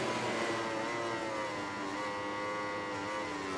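Yamaha and Ducati racing motorcycles scream through a MotoGP 19 video game race, a sustained high-pitched engine whine with slowly shifting revs at steady loudness and no speech.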